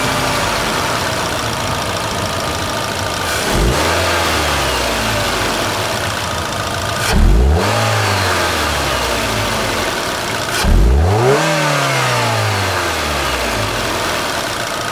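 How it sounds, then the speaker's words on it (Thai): A Mazda 2's four-cylinder petrol engine idles steadily and is revved three times, each rev rising sharply then falling back to idle, spaced a few seconds apart. "มาฟังเสียงเครื่องยนต์กัน"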